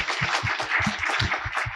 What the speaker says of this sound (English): a big round of applause for our distinguished panelists